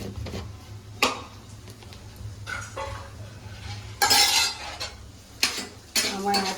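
A spoon scrapes and clinks against a pan while gram flour is stirred, several sharp metallic taps and rasps over a low background hum, with a faint voice now and then.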